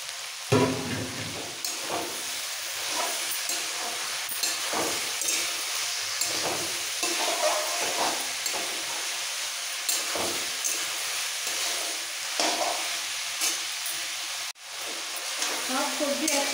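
Tomato, capsicum and drumstick pieces stir-fried together for sambar, with a steady broad sizzle and repeated scraping strokes of a spatula in the pan, fairly close, no talking.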